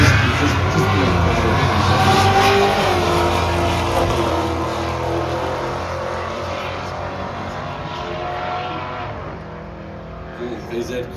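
A Holden VZ car races down a drag strip at a Sydney Dragway truck drag event, a loud engine roar that fades into the distance as it runs away, with a commentator talking over it.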